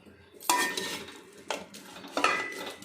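Tamarind dry-roasting in a pan on a stove, heard as three distinct bursts of scraping and clattering as it is stirred and tossed, with quiet pauses in between.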